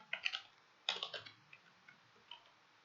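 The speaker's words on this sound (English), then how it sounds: "let's type this again" Short bursts of computer keyboard typing, two quick clusters of keystrokes followed by a few sparse single taps, close and quiet with no talk.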